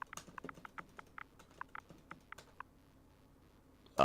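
Rapid, uneven clatter of keys on a computer keyboard, close and quiet, with bursts of taps followed by a pause and a louder knock at the end; no talk.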